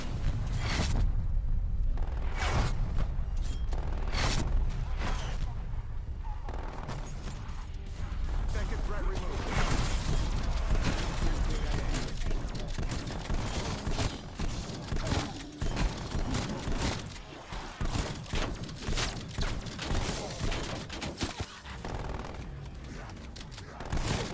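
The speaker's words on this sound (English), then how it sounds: "The artillery strike." Rapid bursts of explosions and gunfire from an artillery strike in Call of Duty Zombies, dense and loud throughout with a steady game soundscape and a voice talking over it.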